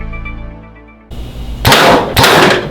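A three-blade 100-grain crossbow broadhead is shot twice through a steel sheet, giving two loud, sharp metallic bangs about half a second apart, each with a ringing tail, after a quieter humming lead-in.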